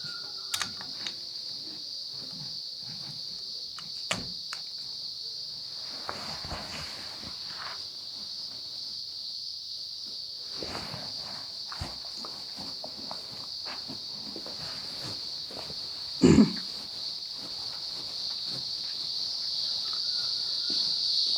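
Cicadas at a beach drone in a continuous high, buzzing chorus that holds steady and swells slightly toward the end, with scattered soft shuffles and handling noises from someone painting nearby.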